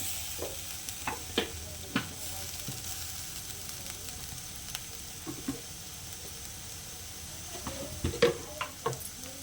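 Onions, ginger and garlic dropped into hot oil for a dried shrimp and brinjal curry sizzle softly and steadily, with scattered spatula taps and pops, close but fairly quiet, no talking.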